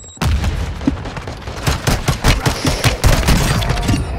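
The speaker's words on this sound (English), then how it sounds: "Semtex incoming!" Semtex grenade blast and rapid gunfire in Call of Duty: Warzone 2's Gulag, a loud burst of booming shots and repeated firing that fills the whole stretch with dense, rolling impacts and no talking.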